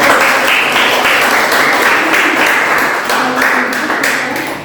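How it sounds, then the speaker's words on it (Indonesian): Steady applause from a classroom audience after a university group presentation, a dense continuous wash of many hands clapping together, loud and close, holding for several seconds before tapering slightly at the end. "ya beri tepuk tangan untuk"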